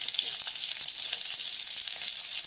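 Chopped onion frying in hot oil in a kadhai, a close, continuous sizzle with faint crackles and occasional stirring scrapes, no voices.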